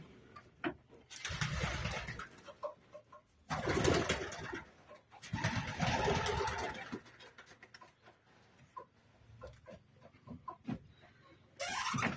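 Young racing pigeons at a loft coo in several long, throaty bursts, close and fairly loud, with quieter gaps of faint ambient noise between them.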